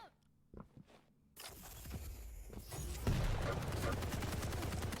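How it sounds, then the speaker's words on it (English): Rapid heavy machine gun fire in the arena shooter Quake, a dense continuous stream of shots building in loudness and holding steady through the second half after a quieter, sparser opening. "He's got to watch out because that HMG gon' hurt."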